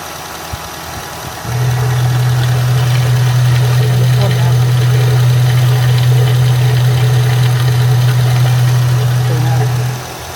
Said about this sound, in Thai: เครื่องดีนะครับ เครื่องดี มีน้ำมันเครื่อง